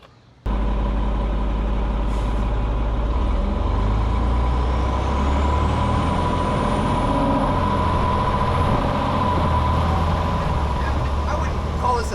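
A new Pierce fire engine starts up and pulls away from Station 1, a loud low diesel rumble that kicks in suddenly and holds steady, with a rising whine building as it moves off.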